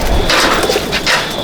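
Chotial Madrasi pigeons in a breeding loft give soft, low cooing calls, a couple of close murmuring phrases with a faint wooden thump among them.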